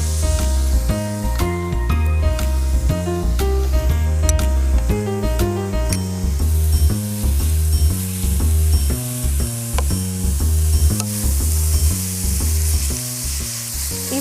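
Onions sautéing in a hot pan give a steady, close sizzle with stirring, partly masked by loud rhythmic background music throughout.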